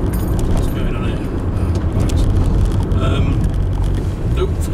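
A Nissan Sunny with welded sills on a test drive, a steady in-cabin engine drone and road rumble with some rattling and jangling, loud and continuous, with a voice speaking over it.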